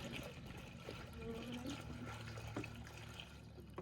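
Regular lemonade pours into a giant lake-style cocktail, a faint continuous trickle and dribble of liquid heard close and quietly, with light voices in the background.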